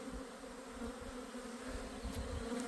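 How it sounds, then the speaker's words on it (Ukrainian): A swarm of honey bees buzzes in a dense, continuous drone that hangs close and steady throughout, with no voices over it. "Це рій добрий."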